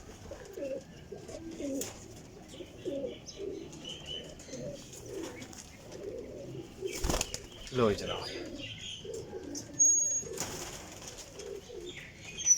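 High flyer pigeons, championship flying birds, coo in a low, soft rhythmic stream with wing flaps and occasional chirps, while someone speaks intermittently over them.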